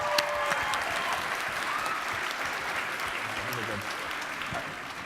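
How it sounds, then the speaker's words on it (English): Sustained applause from a seated audience at the Do Good Challenge Finals 2017, a public policy school competition, loud and continuous throughout with a faint voice briefly audible beneath the clapping. "Another round of applause for Zane."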